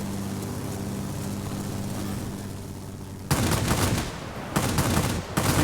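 Rapid 30mm cannon fire from a Ki-94-I fighter in World of Warplanes: after a steady engine drone, two loud sustained bursts of heavy automatic gunfire cut in, separated by a brief pause.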